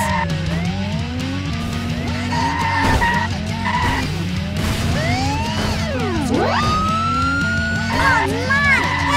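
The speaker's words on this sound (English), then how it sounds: "That police vehicle took a whack!" Police cars chase through a city in an Android driving game, with wailing sirens, screeching tire skids and a crash impact, while a broadcaster-style voice talks over the loud, constant engine noise.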